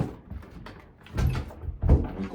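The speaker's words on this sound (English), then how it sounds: "let me close all these doors" Interior doors being shut one after another in an emptied fixer-upper house, with two firm closing thuds about half a second apart near the end, each with a short resonant knock in a bare room.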